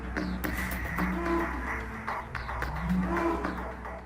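A Belgian Blue cow lowing, deep drawn-out moos repeated twice amid a busy background of overlapping noise, fairly loud and close.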